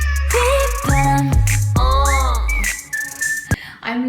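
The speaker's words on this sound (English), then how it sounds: "I'm loving this whistle sound." The bright whistled melody from a song rises and falls in short, clear phrases over a low music backing. It sounds close and loud with no talking.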